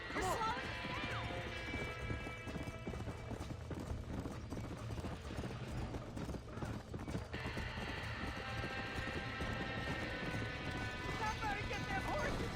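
Horses clatter and stamp inside a burning barn in the video game Red Dead Redemption, hooves clopping continuously with crashing debris and occasional whinnies, mixed under game sound effects throughout.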